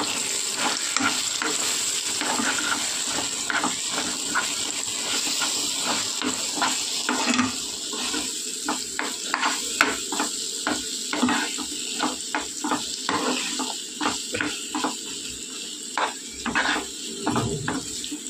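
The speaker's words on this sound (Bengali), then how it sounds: "খুব সুন্দর করে এটা একটা পাক দিয়ে নেব ভাজা ভাজা করে" Lentils fry in a pan with asafoetida and salt, giving a steady sizzle throughout with frequent scraping and stirring strokes that grow more pronounced toward the end, close and fairly loud.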